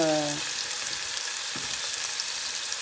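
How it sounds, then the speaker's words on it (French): Onions gently sautéing in a pan make a steady, even sizzle that continues throughout, with a brief low hum at the start. "Le but c'est pas de griller les oignons, mais c'est de les faire revenir"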